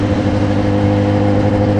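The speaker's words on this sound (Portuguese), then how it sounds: "Meu escapamento, cara, é um Kaufman," Motorcycle fitted with a Kaufman exhaust at a motorcycle meet outside a church, running steadily with a loud, close, even engine drone and no clear rise in revs.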